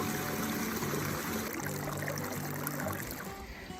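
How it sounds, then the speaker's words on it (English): A water feature in a Seattle backyard garden gives a continuous rushing, trickling flow, close and even, with a faint low hum underneath and no voices. "suddenly the sound of moving water catches your attention"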